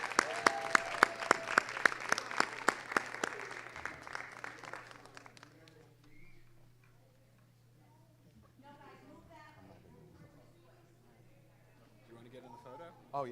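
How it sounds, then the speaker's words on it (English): An audience at a school board meeting gives the school safety patrol a round of applause, clapping that fades out after a few seconds into a quiet room with faint murmurs and a voice. "One more round of applause for our Aldine School Safety Patrol."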